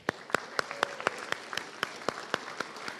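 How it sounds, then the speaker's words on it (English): A handful of people at a college commencement clap for graduates, a sparse, fairly faint patter of distinct, evenly spaced claps rather than a full ovation. "Let's give them one more round of applause."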